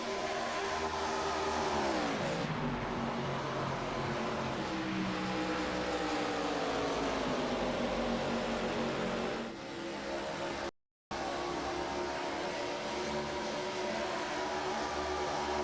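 Stock cars race at Kansas, a mile-and-a-half oval, in the MMR ARCA Racing League video game, with loud sustained engine drone whose pitch sweeps down and climbs again as the cars pass, plus a brief dropout near the end.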